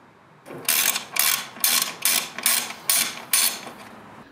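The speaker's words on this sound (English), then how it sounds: "These are all pretty standard tools used: a ratchet, Torx head, 10mm socket." Ratchet with a 10mm socket loosening radiator support bolts on a Mercedes C63 AMG with the M156 engine: seven quick, loud bursts of rapid clicking at a steady rhythm, close up, with no talking.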